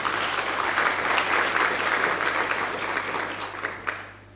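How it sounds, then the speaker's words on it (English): An audience at a youth entrepreneurship symposium in Limpopo breaks into applause, a full, loud spread of many hands clapping together that gradually thins with a few last claps near the end. "I think that deserves a round of applause"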